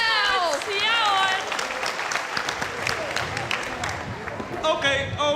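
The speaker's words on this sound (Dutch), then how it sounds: "Applaus voor jezelf." Clapping from an audience at a village festival-week cabaret show swells into sustained, close applause, while a voice speaks over it at the start and end.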